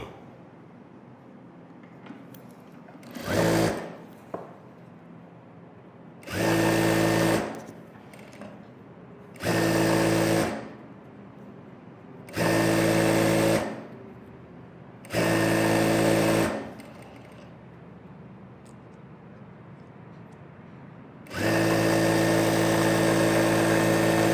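A sewing machine stitches lining pieces together in a tailoring class, running in six separate bursts of rapid rhythmic whirring, each a second or two long with quiet pauses between, the last run longer and steady.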